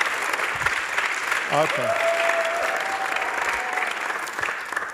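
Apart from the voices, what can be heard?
church congregation applauding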